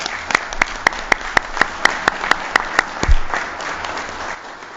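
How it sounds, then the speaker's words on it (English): Clapping at a municipal board of mayor and aldermen meeting, a fairly sparse run of sharp, evenly spaced claps that fades out after a few seconds, heard in a large room. "Can we give them all a round of applause?"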